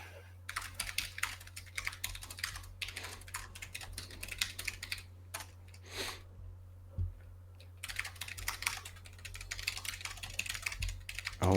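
Rapid typing on a computer keyboard, brisk clattering keystrokes in bursts with a brief pause midway, close and fairly quiet, with a short spoken word near the end.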